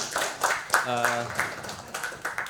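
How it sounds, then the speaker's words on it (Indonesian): Audience applause for speaker Pak Hubi at a seminar on Indonesian logistics regulations, scattered claps in short bursts, moderately faint, mixed with a person talking over them. "Aplaus untuk Pak Hubi"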